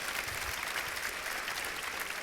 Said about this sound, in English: y'all can give her a round of applause for that.